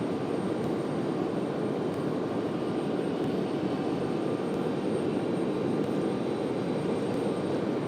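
A Moxie Airbus A220-300 jet arriving at Raleigh-Durham airport produces a steady, even roar from a moderate distance, unbroken and without voices.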